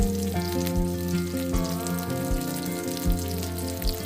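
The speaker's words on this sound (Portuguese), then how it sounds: "Adicione a carpa cruciana e frite até que os 2 lados estejam levemente dourados" Crucian carp fries in hot oil with sliced ginger in a pan, giving a loud, steady sizzle that carries on without a break while tonal background music plays underneath.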